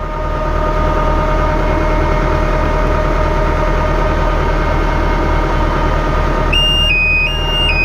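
A filling alarm on a crop sprayer tank beeps in a stepped, rising and falling tone during the last second or so, sitting over a steady, loud, low idling tractor engine drone that fills the whole stretch.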